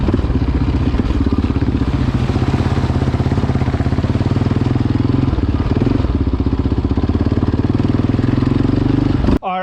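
Yamaha Raptor 700R quad engine running steadily while riding, a loud continuous mid-range drone with a constant pulsing rhythm that holds for nearly ten seconds, close and dominant before cutting off abruptly at the end.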